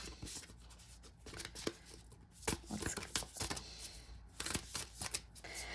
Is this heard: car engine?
no